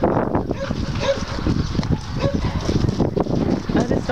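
Two dogs whimper and yip in short, excited bursts, close by on a run outdoors, with people talking over them.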